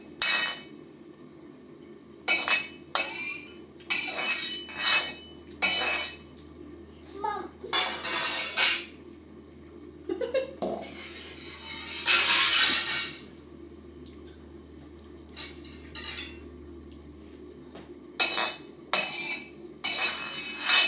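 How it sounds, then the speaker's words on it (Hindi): A small child plays with a pressure cooker and a wok indoors, making scattered metallic clanks and clinks in irregular bursts between quiet gaps, with an occasional faint voice. "तो फिर वो कुकर और कढ़ाई के साथ यहाँ पे खेल रहा है।"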